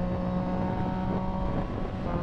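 A Triumph triple-cylinder motorcycle engine drones steadily on the move during a group breakfast ride, a sustained humming tone under constant wind rush, with no voices.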